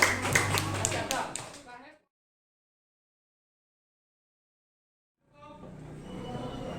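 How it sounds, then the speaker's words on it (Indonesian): A classroom applauds a student group with a brief burst of close, rhythmic clapping that fades out within two seconds, followed by silence and then a teacher talking. "Tepuk tangan buat kelompok 4."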